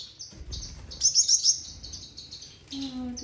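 Rapid, high-pitched chirps come from a 35-day-old Gouldian finch chick, close and soft, with a brief quicker flurry in the middle and a faint voice near the end.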